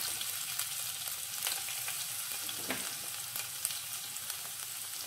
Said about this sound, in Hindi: ऑयल गर्म हो गया है, इसमें हम डाल देंगे जीरा, बारीक कटा हुआ लहसुन